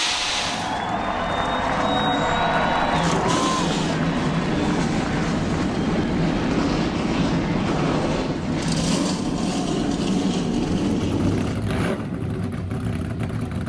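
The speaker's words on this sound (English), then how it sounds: "a full field of Car of Tomorrow race cars roaring to life" A full field of NASCAR Car of Tomorrow race cars starting their engines at once, a loud, dense, sustained roar that holds steady throughout with some rising revs early on.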